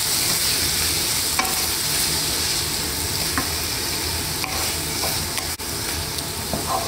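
Onions frying in oil until browned for a Bengali potato curry give a steady, close, dense sizzle, with a few sharper stirring scrapes and ticks breaking through, and no voices.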